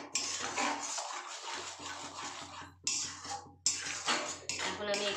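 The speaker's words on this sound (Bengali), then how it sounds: "এখন আমি ভালো করে এটাকে মিশিয়ে নেব।" A utensil scrapes and clinks against a kadai while a potato, capsicum and onion curry with fresh curd is stirred, repeated metallic scraping strokes, close by, with a couple of brief pauses.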